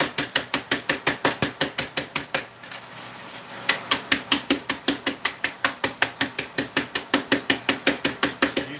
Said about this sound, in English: I use back of a metal spoon on my cutting board.